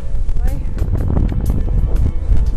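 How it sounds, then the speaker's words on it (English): Strong wind roars and buffets the microphone in a constant, heavy rush of low rumbling noise with no pauses. "Very, very windy"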